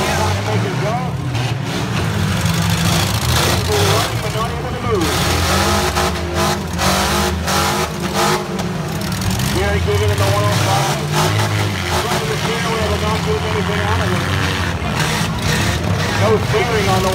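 A demolition derby car idles and revs in the centre of a county fair arena, engine running but unable to move, a loud continuous rumble with swelling revs as an announcer talks over it.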